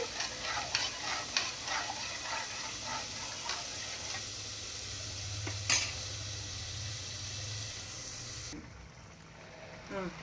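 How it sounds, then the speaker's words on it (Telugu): Sambar vegetable pieces cooking in a pot: a steady bubbling, sizzling hiss with occasional stirring scrapes and utensil clinks, close up, continuous throughout with no talk. "అంతలోకి ఈ ముక్కలు మనకి ఉడుకుతూ ఉంటాయి"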